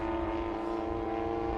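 A Hangar 9 Fokker D.VII giant-scale 30-60cc model airplane drones in flight with a steady, sustained engine tone held at low, near-idle power, continuous and even with no talk over it.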